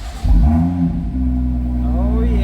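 A 2018 BMW M2 (F87) engine cranks and catches with a loud low surge, then settles into a steady deep rumbling idle close by.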